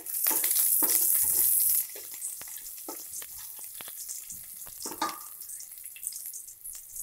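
Chopped onion and garlic hit hot oil with cumin for a brinjal masala, a loud, bright sizzle for the first two seconds that settles into a softer, steady frying crackle with occasional utensil clinks.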